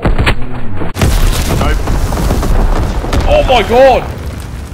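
An incendiary bomb dropped by a low-altitude bomber in Call of Duty WWII bursts with a sudden heavy boom. A long rumbling roar follows, with a startled voice exclaiming near the end.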